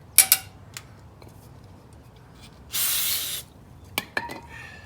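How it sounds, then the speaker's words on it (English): A steady hissing spray onto a lawnmower screen lasting under a second, surrounded by sharp clicks and light knocks of handling. "Spray the screen out."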